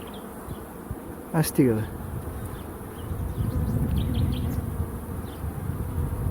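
Honey bee swarm buzzing steadily around a hive, a dense low hum that swells louder toward the end, with a brief spoken exclamation in Bulgarian cutting across it early on.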